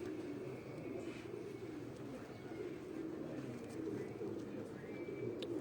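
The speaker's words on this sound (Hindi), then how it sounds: "घर की चकोर ब्रीड के ये कबूतर हैं, पीर साहब के घर के।" Soft, continuous cooing of Chakor-breed domestic pigeons kept on a rooftop loft, a steady low murmur running throughout at moderate distance with faint background noise.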